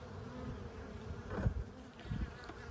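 Honey bees buzz at a bee farm, a close, continuous droning hum with a few louder passes as individual bees fly near.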